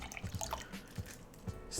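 Water dripping or splashing in short separate drops, close and fairly quiet, several small hits spread across a short stretch with no talk over them.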